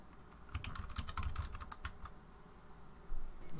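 Close computer keyboard clicks tap out a password in a quick irregular burst, then slow to a few scattered keystrokes, with no one speaking.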